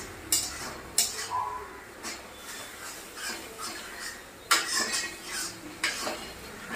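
Masala with chilli powder sautéing in a pan, with irregular metal utensil clanks and scraping strokes over a faint sizzle.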